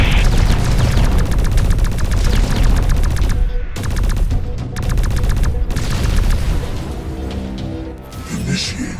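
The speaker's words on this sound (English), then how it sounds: "The aliens are shooting at us!" Alien weapons fire from the X-Morph Defense video game rattles in dense, rapid bursts, loud and nearly continuous with a few short gaps.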